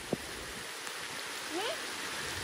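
Monsoon rain falls on the tiled roof of a house, a steady soft wash of patter that runs through the whole stretch, with a brief knock near the start and a faint gliding tone midway.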